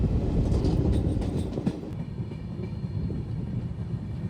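A train running on rails, heard from inside with a steady low rumble and faint rhythmic clatter of wheels, slightly louder at first and then settling into an even roll.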